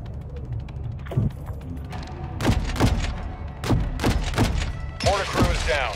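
Heavy gunship rounds slam into enemy mortar positions in Call of Duty Modern Warfare 2, a run of deep thudding impacts and booms landing in quick succession, loud and near, with voices speaking between hits.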